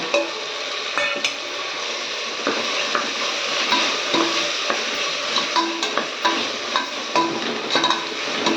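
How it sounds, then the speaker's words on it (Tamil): Chopped beetroot sautés in a hot pan with a steady sizzle, punctuated by frequent scrapes and clacks of a spoon stirring. "நல்லா பீட்ரூட் நல்லா வதங்கட்டும்"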